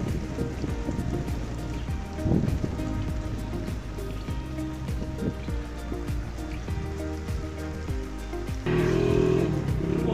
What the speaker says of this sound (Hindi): मेरे को कपड़े तेरे गिले पे ना बारिश हो रही है